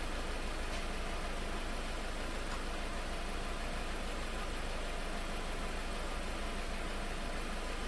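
A 2.4 liter four-cylinder car engine idles with a misfire in one cylinder, a steady, even hum with broadband noise running alone throughout, close and constant.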